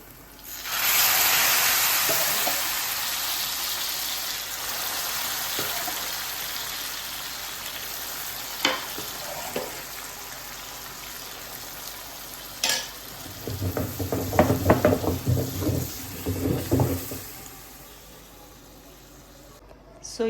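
Spices sizzle steadily in hot oil for a tadka, a bright continuous hiss with occasional clinks of a utensil and a burst of louder crackling stirring later.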